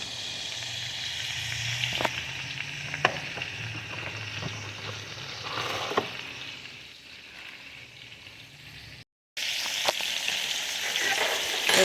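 Steady sizzling of lamb rib chops frying in a hot pan, with occasional sharper pops and crackles, close and continuous.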